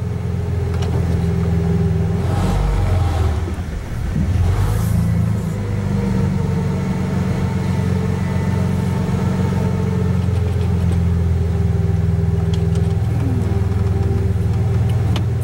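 An old truck with a nearly nonexistent muffler drives steadily, its loud, raw engine drone rumbling continuously up close, with a brief dip in the roar partway through before the growl resumes.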